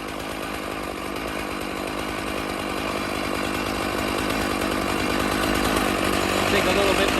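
Chainsaw running steadily on an Alaskan mill while milling cedar, loud and close for the whole stretch with a slight rise in intensity toward the end, with no pause in the engine.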